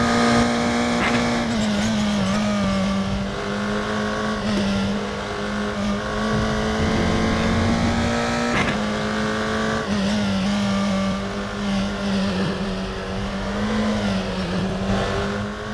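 Formula 3 race car from the RaceRoom racing game at the Sachsenring, its engine screaming loud and steady on the final laps, dipping and rising through gear changes, with no talking.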